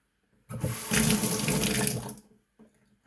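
A tap runs onto a soapy shaving brush in a short, steady splashing gush of about a second and a half, close and fairly quiet, then cuts off, followed by a faint drip.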